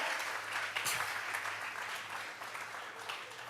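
A church congregation claps steadily during a Bible-study sermon, a continuous, even wash of many hands that stays fairly soft and distant throughout.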